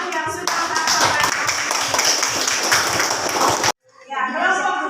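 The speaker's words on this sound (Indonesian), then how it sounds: "Lagi tepuk tangan untuk kelompok 1 yang sudah menanggapi." A school class claps for a group of students in a brisk, fairly close round of hand clapping that cuts off abruptly, followed by a voice speaking.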